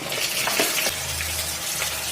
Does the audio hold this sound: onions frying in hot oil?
yes